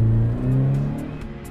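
A Toyota 86 fitted with a TRD exhaust system revs steadily, its low engine note rising slightly and holding loud and close with no one speaking.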